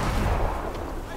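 A single muffled, booming gunshot in the Call of Duty Advanced Warfare crash mission, heavy and low with a dull rumbling tail.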